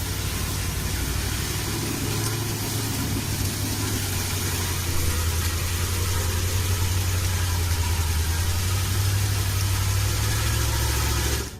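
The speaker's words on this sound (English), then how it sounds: "How do you think a big truck like the Ural can keep moving through thick mud?" A Ural truck pushes through thick mud, its engine giving off a constant, heavy low drone that swells slightly midway and holds steady until it cuts off abruptly.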